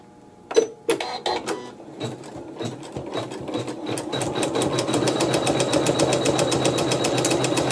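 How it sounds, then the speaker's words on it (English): Embroidery sewing machine running a zigzag stitch with embroidery bobbin thread, a few separate stitches first and then a fast, steady mechanical clatter that grows louder and holds. "we're going to go ahead and stitch a zigzag stitch around the outside"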